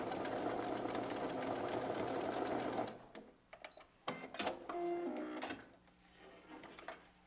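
A sewing machine stitches a seam on a fabric bag, backstitching at the start and end, with a loud steady mechanical whirring for about three seconds, then stopping, followed by clicks, light handling and rustling of the fabric.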